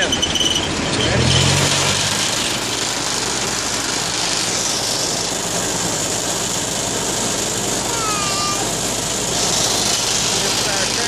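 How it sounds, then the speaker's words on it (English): A farm tractor drives down a road in Lake Lure, North Carolina, its engine droning steadily and loudly up close with a squealing whine and rattling throughout. "We're on the tractor and we're driving down the road together."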